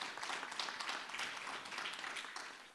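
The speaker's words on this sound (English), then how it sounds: "A round of applause for Nicole." Applause from an audience at an evening community fundraiser gathering, a soft, steady patter of many hands clapping, fairly distant and even for the whole short stretch.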